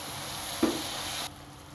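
Onion and garlic frying in a pan hiss as a little water is added, giving a brief louder sputter before the sizzle steadies and then cuts out; no talking.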